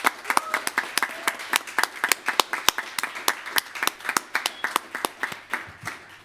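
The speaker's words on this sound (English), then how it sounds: "We give a round of applause for Katie." Applause for a departing member at a student union AGM, a small crowd clapping in a steady stream of sharp, uneven claps, fairly close and continuous, with no talk over it.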